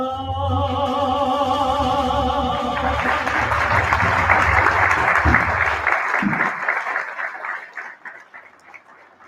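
Audience at a commemoration event applauding after a song, a sustained sustained tone fading into broad clapping that swells then tapers off toward the end.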